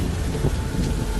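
Heavy rain and wind on a stormy night in an animated Hindi horror story, a steady broadband rushing wash that holds at one loud level throughout, with no voices.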